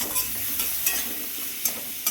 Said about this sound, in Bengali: এই যে হলুদটা দিয়ে পেঁয়াজটাকে একটু ভাজা ভাজা করব।